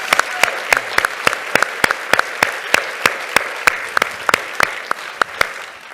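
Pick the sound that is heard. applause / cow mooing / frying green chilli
applause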